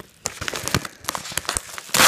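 Plastic packaging around a Webkinz Signature African Wild Dog plush being crinkled and torn open by hand, with close, loud crackling rips ending in one sharp tear.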